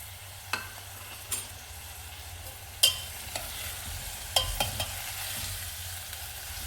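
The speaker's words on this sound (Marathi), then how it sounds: "तेल तापलेलं आहे। आता आपण हा चिरलेला कांदा टाकत आहोत।" Chopped onion frying in hot oil on low heat in a pan for a savji dal-onion curry, a soft continuous sizzle punctuated by occasional sharp stirring clinks and scrapes of a spoon against the pan.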